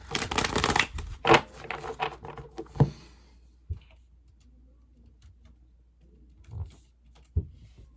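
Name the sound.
shuffling tarot cards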